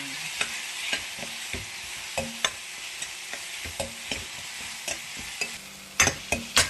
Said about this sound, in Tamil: வெங்காயம் தக்காளி நல்லா வதங்கினாங்க.